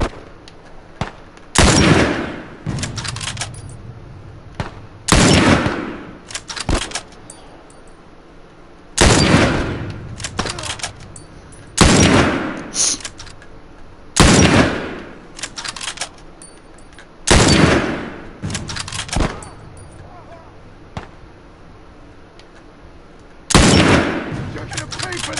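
Gunfire in The Last of Us: about eight loud, sharp bursts of shots spaced a few seconds apart, with quieter ambience in between.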